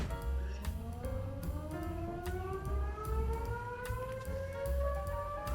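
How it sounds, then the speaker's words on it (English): Fire sirens wail outdoors at a distance, a rising, sustained tone drifting steadily upward over a low rumbling background with no talking. "we've got fire sirens going off now"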